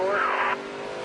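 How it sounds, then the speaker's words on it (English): A NASCAR stock car spins out during a race at Richmond. A loud engine roar and a tire screech build for about half a second, then drop away to a lower rumble. "Clint Boyer has spun"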